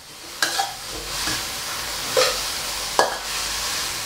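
Bitter melon stir-frying in a hot pan for a Thai bitter melon and egg dish: a steady close sizzle broken by three sharp spatula clanks and scrapes, with no talking.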